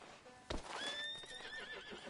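A horse in the video game Red Dead Redemption 2 lets out a short, clear whinny with rising and falling pitch, following a single hoof clop, heard close and alone.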